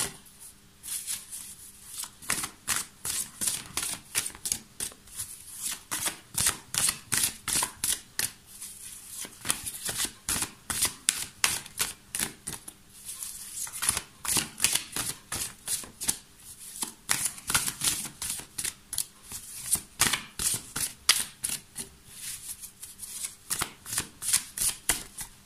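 Tarot cards shuffled by hand in a continuous run of quick, crisp riffling bursts, close and fairly soft, repeating steadily for about half a minute with no voice.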